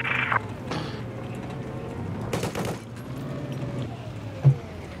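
Gunfire from a mounted gun on an amphibious vehicle in Battlefield 4, a rattling burst of game shots mixed with a low engine rumble and a dense battlefield soundscape.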